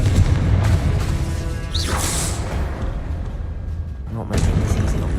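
A Confringo blast spell explodes in Hogwarts Legacy, a loud booming burst with a whooshing swell near the middle, set in a dense, continuous rumble of combat sound effects.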